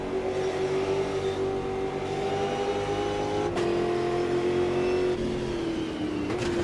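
Stock car engines from the Automobilista 2 racing game at Tarumã, drivers lifting off the throttle: a steady loud engine drone with pitch shifts and dips as revs drop, continuous throughout with no talk.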